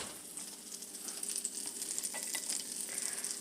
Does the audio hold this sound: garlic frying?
yes